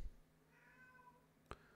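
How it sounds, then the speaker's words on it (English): A pet cat gives one soft, faint, drawn-out meow, quiet and a little distant, followed by a brief click. "I heard her meow. She wants attention right now."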